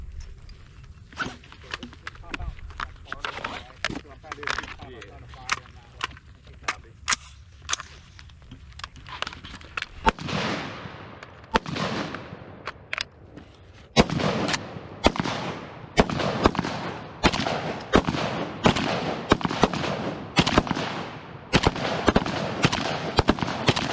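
Ten-round strings of gunfire at a target range, sharp cracks spaced irregularly at first, then louder, quicker shots from several shooters overlapping, with faint voices in the background.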